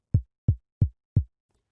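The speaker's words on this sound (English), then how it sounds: "This gives you your basic kick drum" Basic synthesized kick drum from a synthesizer, four clean deep thumps at an even steady pulse, loud and dry with short decays, each hit alone with silence between.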